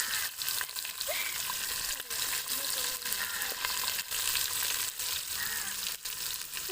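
Onions fry in a pan with a strong, continuous sizzle. Regular scraping stirs break through the sizzle, and faint voices can be heard in the background.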